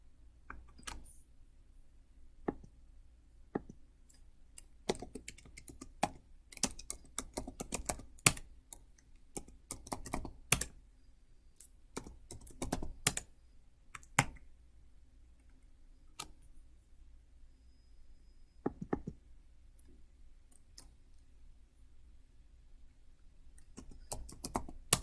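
Keystrokes on a computer keyboard while entering a Linux passwd command in an Ubuntu 18.04 container, sharp clicks in irregular bursts separated by quiet pauses, close and crisp with no speech.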